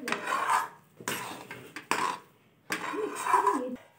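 Salted upma being stirred in a pan as it thickens: several distinct bursts of spoon scraping and clinking against the pan, separated by short quiet gaps, close up, with no talking.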